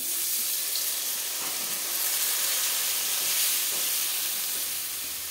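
Spiced potatoes with turmeric, salt and sugar sizzle steadily in a pan after a splash of water, a soft continuous hiss with faint stirring taps, no voices.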